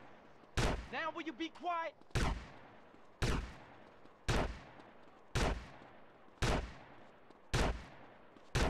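Repeated gunshots in the video game GTA San Andreas, seven sharp loud cracks spaced about a second apart, with a voice speaking briefly between the first two.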